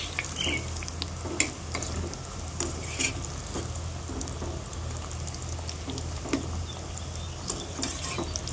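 Madatha kaja pastries frying in oil in a pan, a soft continuous sizzle with occasional sharper pops and clicks, close and fairly quiet, no talk.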